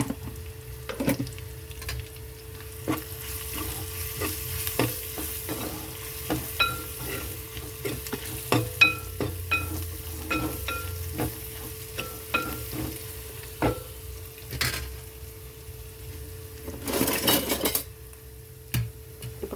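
Crushed garlic and turmeric tempering sizzle in hot oil in a pan, with steady frying crackle, frequent clinks and scrapes of a spoon stirring against the metal, and a louder burst of sizzling near the end.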